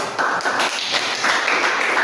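A seminar audience at a self-leadership training session claps in a quick, uneven burst, dense hand claps filling the room with no talk over them.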